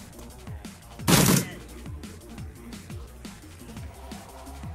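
Gunfire in the Shadowrun Returns video game, a brief loud volley of shots standing out over a repeating rhythmic game soundtrack, with no speech over it.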